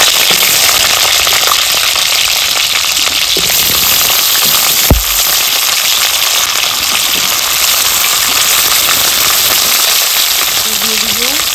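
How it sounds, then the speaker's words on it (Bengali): Pieces of raw jackfruit frying in hot oil, a loud, dense, continuous crackling sizzle heard up close with one sharp knock partway through. "এবারে এঁচড়টাকে একটু ভেজে নিব ভালোভাবে।"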